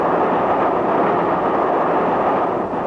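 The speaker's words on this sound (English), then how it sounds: "Did you hear that rattle of the wheels just now? Feel the whole train sway slightly?" Steady, loud rumble of a train rolling along the London, Brighton and South Coast line, used as a mystery-drama sound effect: continuous wheel and carriage noise throughout, with no voices.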